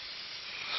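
A spray paint can hisses in one steady, close burst, a bright airy rush with no talking.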